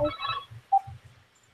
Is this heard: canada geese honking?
no